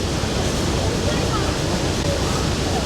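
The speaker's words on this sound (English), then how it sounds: "Water coming in behind us." Water roars steadily into an Erie Canal lock beside the Colonial Belle cruise boat in Fairport, New York, a loud, dense, continuous rushing wash with no breaks.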